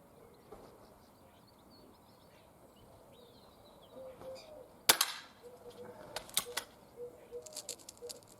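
Benjamin Trail NP MK2 air pistol fired at a 10 metre target: a sharp crack near the five-second mark, followed by several smaller snapping clicks over a quiet outdoor background with faint birdsong.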